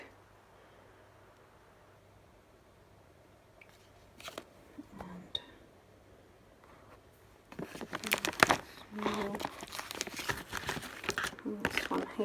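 Old vintage playing cards being handled, giving dry papery crinkling and shuffling rustles that start faint and sparse, then turn louder and busier in the second half, close by with no talk over them.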